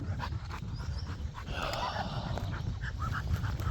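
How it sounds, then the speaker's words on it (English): A dog panting heavily up close, quick rhythmic huffing breaths with a few whiny notes, over outdoor background noise. "Just a dog huffing and puffing."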